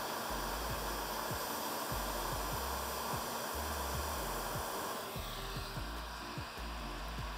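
A heat gun blowing hot air onto a skateboard deck, a steady close whooshing roar under a low mechanical hum, with short rhythmic thumps throughout and no voices.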